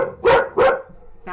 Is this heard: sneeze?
no